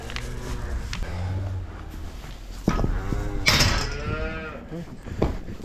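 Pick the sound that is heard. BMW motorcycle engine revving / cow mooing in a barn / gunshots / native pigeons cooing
cow mooing in a barn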